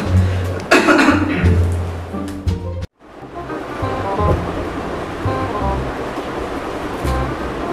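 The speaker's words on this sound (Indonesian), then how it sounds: "Batuk dari tadi tuh" A person at home coughs in a couple of harsh bursts early on, followed by throat clearing and murmured talk over a noisy, rushing background.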